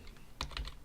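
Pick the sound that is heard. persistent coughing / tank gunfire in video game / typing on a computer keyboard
typing on a computer keyboard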